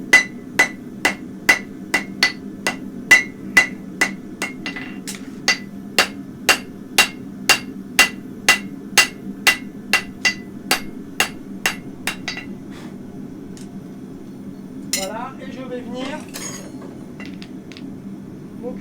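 A hot Mustad horseshoe is drawn out with a hammer, giving a steady run of about twenty-five sharp, ringing strikes at a regular pace. The blows stop partway through, and a softer scraping clatter of metal handling follows.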